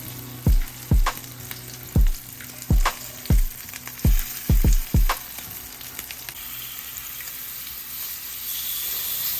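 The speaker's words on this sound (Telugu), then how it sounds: "ఇంకా మిగిలి ఉన్న పీసెస్ని మీడియం ఫ్లేమ్ మీద గోల్డెన్ బ్రౌన్ అయ్యే వరకు ఫ్రై చేసుకోవాలి." Spicy fish pieces fry on a tawa over a medium flame with a quiet background sizzle. A series of sharp, close knocks or taps comes in quick bursts early on, then the frying continues alone.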